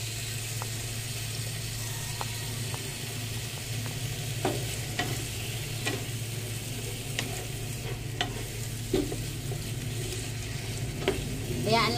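Half a kilo of ground meat sizzles steadily in a pan, a constant close frying hiss broken by scattered clicks and scrapes of stirring.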